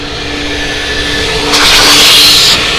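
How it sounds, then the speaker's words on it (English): A car wash vacuum cleaner tested on a truck, a loud steady whooshing drone with a hum that holds the whole time and grows brighter and harsher for about a second near the end. "Let's test out this vacuum here."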